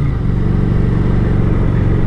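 A Kawasaki Vulcan 900 Classic motorcycle being ridden, its engine holding a steady, loud low rumble throughout with no voices.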